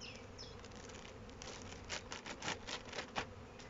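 Black honey bees hum in a dense, steady drone at an opened hive with smoker in use, the buzzing swelling with several louder bursts as bees pass close.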